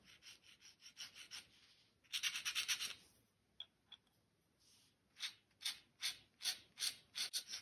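Dry, scratchy strokes of a fine dip pen nib dragging across paper, coming in short bursts with brief pauses between them, close and fairly quiet.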